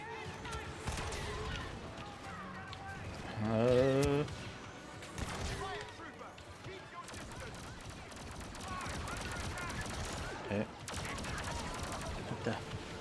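Blaster gunfire from the Star Wars Battlefront II video game: a dense, continuous battle soundscape of repeated shots and bursts, with a louder crash of fire around the four-second mark.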